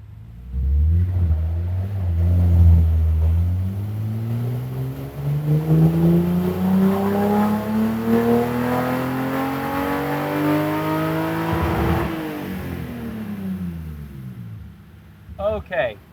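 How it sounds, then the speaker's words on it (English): BMW E30 engine on a dyno with over-advanced ignition timing revs up in a long rising pull, a loud buzzing harmonic note climbing steadily, then easing off. People talk over the engine. "Notice how the engine tone actually changed because we were over advanced."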